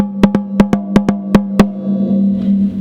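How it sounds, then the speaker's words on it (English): A snare drum from a drum set, played with the snares switched off, gives eight sharp, open, tom-like hits in a quick uneven rhythm, loud and close, ringing out alone before fading. "Now, a snare drum without snares sounds like this."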